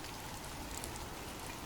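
Steady rain falls in a dense, even hiss of countless drops, with no pauses or voices.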